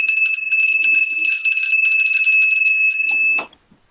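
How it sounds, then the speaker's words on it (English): A bell rings with a bright sustained metallic tone, loud and close, with faint background sounds beneath, before it stops abruptly near the end, leaving near silence. "Are you moving the bell, or are you ringing it to finish the episode?"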